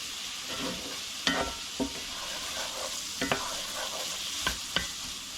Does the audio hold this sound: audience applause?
no